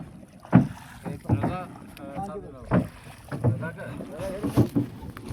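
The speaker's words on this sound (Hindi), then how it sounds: "किसी बोर्ड में बैठे हैं जो चप्पू की मदद से चलती है" An oar-propelled rowing boat on Phander Lake in Gilgit Baltistan gives rhythmic dips and splashes of the oars, several strokes in steady succession close by, with voices talking in between.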